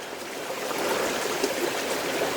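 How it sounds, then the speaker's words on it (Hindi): A small mountain stream (gadhera) flows beside an old village in the Uttarakhand hills, a steady, close rushing and trickling of water with no voices over it. "आवाज़ महसूस करिए इन गधेरों की।"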